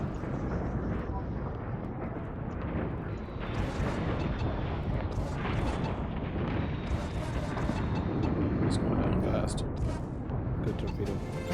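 Torpedo explosions in the space combat game Infinity: Battlescape, heavy rumbling blasts layered with engine roar and sharp flashes, continuous and loud, with a player talking over the action.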